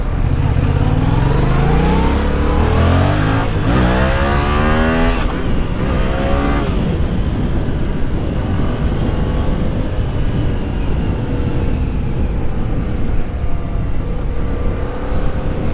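A 2015 Yamaha FZ-07 motorcycle engine roars and revs up steadily, loud and close, with the pitch climbing as it accelerates, then holding a sustained drone.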